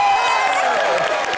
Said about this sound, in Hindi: एक बार जोरदार तालियां हो जाए प्रियंका चोपड़ा